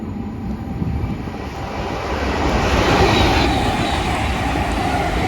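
A Class 325 train passes through Bletchley railway station, its loud rumbling roar building and swelling near the middle before holding strong, with no voices.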